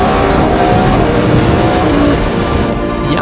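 A Yamaha R1 sport motorcycle engine roars close and loud in one sustained, unbroken howl, holding high revs throughout.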